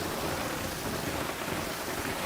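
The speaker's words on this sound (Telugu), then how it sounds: "భారీ వర్షం పడుతోంది" Heavy rain pours down at night in Hyderabad during a hailstorm, a dense, continuous roar of falling water on surfaces, steady and loud without pause.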